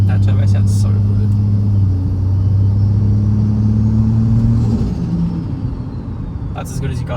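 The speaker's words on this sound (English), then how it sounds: "that turbo sounds so good" Turbocharged Ford FG Falcon ute engine running at a steady, loud idle-to-rev drone close by, the pitch shifting and easing off partway through, with brief voices at the start and end.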